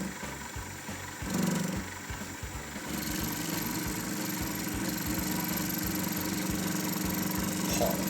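A mini lathe runs steadily with a low mechanical hum and a fine rhythmic ticking, close and moderately loud, with a brief louder rumble early on and no speech.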